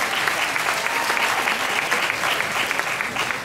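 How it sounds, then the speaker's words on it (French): Audience applause for a candidate at the Miss Lorraine 2013 pageant, a dense, lively burst of many hands clapping that fills the room steadily and fades slightly at the end. "Merci de l'applaudir."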